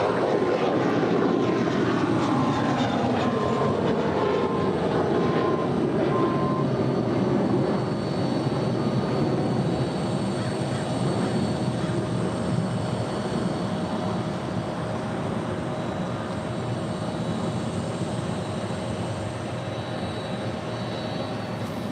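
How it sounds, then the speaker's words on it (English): A United Airlines Boeing 777-200 taking off at LAX: a loud, sustained jet engine roar, strongest at the start and then gradually easing and thinning as it continues, with no talking. "Our next departure is United Airlines Flight 2427 heading to Houston, Texas. 777-200."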